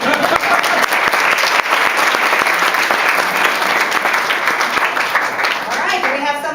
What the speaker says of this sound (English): we're clapping. We're clapping.